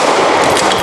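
A single loud, close handgun shot fired at target practice, a sharp blast with a short ringing tail.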